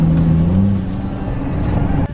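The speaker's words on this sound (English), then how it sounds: "if you hear like that deep drone switching back, the vanes are going from like 100 to 0, 100 to 0" Deep, steady drone from a compound-turbo 2020 L5P Duramax diesel truck, loud and close, holding a low tone with a slight pitch shift midway before cutting off abruptly near the end.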